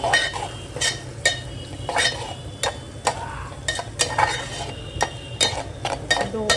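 A spoon stirs coriander powder, chilli powder and Kitchen King masala together in a pan for a moong dal and onion dish, making repeated scraping strokes and light metallic clinks at a quick, uneven rhythm, with no one speaking.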